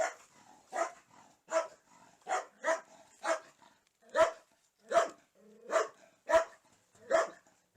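A dog at a house for sale in a small town barks repeatedly in evenly spaced, fairly close sharp barks, about ten over several seconds, with faint voices in the background.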